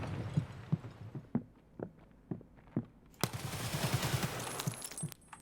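AK rifle fire in Escape From Tarkov: a series of sharp, separate shots in an uneven rhythm, then a denser burst of rapid fire as ambient noise swells. The shots are near and punchy.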